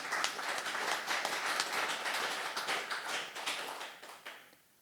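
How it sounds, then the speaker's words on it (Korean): Church congregation clapping together during a sermon, dense, even applause from many hands in a large room that tapers off and fades at the end. "박수를 치며 하나님께 영광을 주시기 바랍니다."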